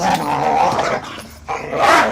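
A Rottweiler and Ridgeback mix dog growls steadily and loudly up close, with a rough continuous rumble that briefly drops off before resuming.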